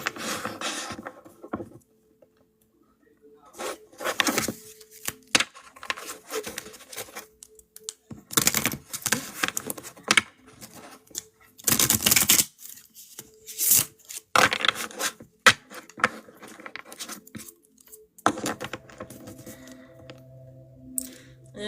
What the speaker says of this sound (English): Let's do one more shuffle the long way.